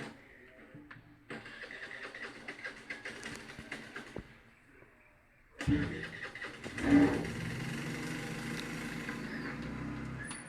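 A Scooty scooter engine is started outdoors: a quiet low idle-like hum, then a sudden cranking burst as the motor catches and keeps running steadily; faint voices sit in the background.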